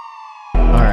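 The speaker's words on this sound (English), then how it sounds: "This is just a police siren sound effect" Police siren sound effect processed with heavy compression and reverb, a tonal wail starting thin and then swelling into a loud, dense, sustained blast.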